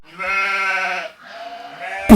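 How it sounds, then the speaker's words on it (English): A goat gives two close, loud bleats, the first long and wavering, the second shorter, followed by a brief bump at the end. "this is my favorite goat right here. I love this goat."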